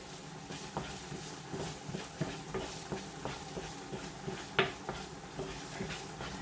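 Curry being stirred in a pan, with soft, repeated scraping strokes at a steady rhythm, close and fairly quiet, and one sharper clink partway through.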